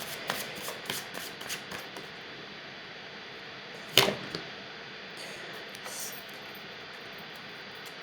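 A deck of oracle love cards being shuffled and one card pulled: soft, quiet riffling and rustling, then a single sharp snap partway through, with no one talking.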